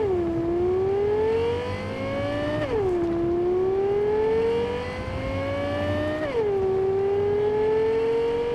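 Rayfield Caliburn supercar engine from the video game Cyberpunk 2077, revving loudly and alone in three rising sweeps, each climbing through the gears before a shift drops the pitch, with a smooth high whine.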